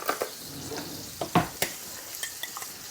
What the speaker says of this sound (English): I'm going to just scramble these up like I would if I was making scrambled eggs